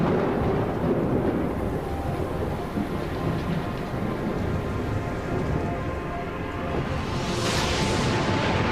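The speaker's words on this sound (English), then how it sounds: "The heavily laden storm clouds would have produced a deluge of hot, acidic rain" Heavy rain pours steadily with a dense, constant roar, while low rumbling thunder rolls underneath throughout; no voices.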